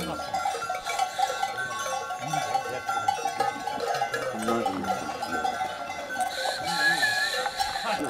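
Cowbells worn by cows in a Turkish village, a steady metallic clanking that runs through the whole stretch, with livestock bleats and voices talking around it.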